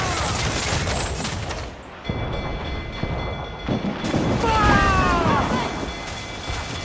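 Naval cannon fire in a video game, with loud, rumbling broadside blasts over constant sea and battle noise, as shouting voices carry over the din.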